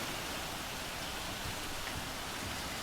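Rain falls steadily in a video game world, a dense, even hiss of downpour that fills the scene without pause and carries no voices.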